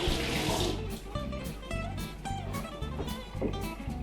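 A tomato is washed under a running kitchen tap, a steady close splash of water broken by soft irregular gurgles and patters as it is turned in the stream, with no talk.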